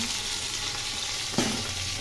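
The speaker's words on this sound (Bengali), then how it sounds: "আর কিছু মাছ আমি ভাজছি।" Pieces of rohu fingerling fish frying in hot oil make a loud, dense, unbroken sizzle at close range, with one short clack partway through.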